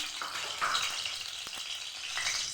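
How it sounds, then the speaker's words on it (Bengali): A quiet, steady hiss of white cooking oil going into a hot pan for frying ridge gourd, a soft continuous sizzle with no talking. "সাদা তেল দিয়ে দিলাম"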